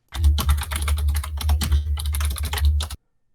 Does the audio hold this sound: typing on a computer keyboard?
yes